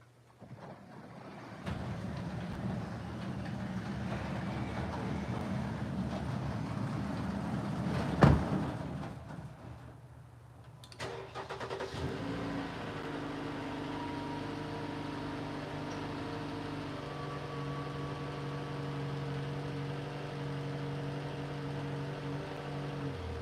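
Vehicle engine in a garage workshop being started and left to idle after rolling off ramps: a broad rumbling run-up, a sharp transient, then a steadier idle with a low hum and faint tonal whine.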